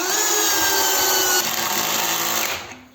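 DRIVAK ED002 cordless screwdriver with a ratchet socket driving a screw, a loud steady whirring motor drone that holds evenly for over two seconds, then winds down as the screw seats.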